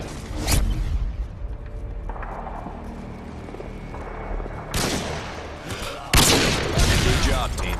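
Gunfire in a team-based shooter video game, with several sharp, loud bursts at the start, in the middle and near the end over a busy, noisy background.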